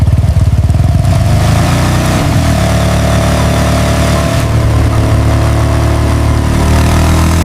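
A motorcycle engine idles and revs loudly and close, with a steady low rumble and a shift in pitch partway through.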